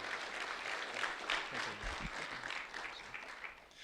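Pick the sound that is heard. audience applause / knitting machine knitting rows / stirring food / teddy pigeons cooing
audience applause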